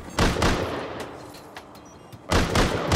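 Automatic turret gunfire in the video game Rust: two loud bursts of rapid shots, one near the start and another near the end, separated by a quieter stretch with faint scattered sounds.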